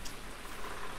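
Steady, dense rainfall in the Farming Simulator 19 video game, a continuous hiss of drops filling the whole second with no talk.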